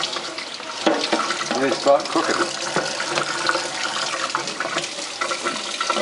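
Cool tap water runs steadily while live lobsters are rinsed and cleaned at a sink for a Mother's Day lobster dinner, a continuous splashing stream with people talking over it throughout.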